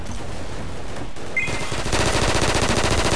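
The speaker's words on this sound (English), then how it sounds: "Who's shooting me?" Gunfire in the video game Double Action: Boogaloo: a loud, close burst of rapid automatic shots that intensifies in the second half into a dense, continuous rattle.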